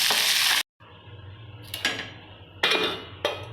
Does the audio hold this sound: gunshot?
no